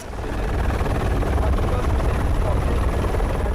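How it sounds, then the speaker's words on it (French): Écureuil AS-350 helicopter in flight, a steady loud rotor and turbine roar holding evenly throughout with deep low-end thump and no voices. "se fait alors par voie aérienne à bord de l'hélicoptère Écureuil AS-350"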